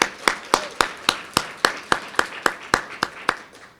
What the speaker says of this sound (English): Can we have another round of applause for our Bouchet inductees